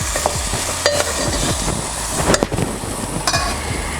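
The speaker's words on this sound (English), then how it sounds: "Cook the mushroom, mix it well in the masala mix." Mushrooms stirred and cooked in a masala mix for a black-eyed bean and mushroom curry, with repeated close spoon scrapes and knocks against the pan over a light sizzle, loud and without speech.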